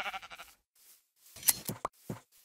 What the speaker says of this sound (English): So nice of the sheep to just stand there waiting for you to come and shear them